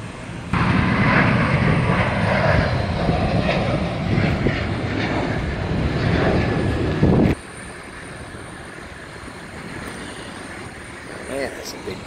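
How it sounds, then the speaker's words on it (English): A big airplane's engines roar loudly and steadily for about seven seconds near an Air Force setting, then cut off abruptly, leaving quieter ambient noise with faint sounds afterward. "Man, that's a big plane."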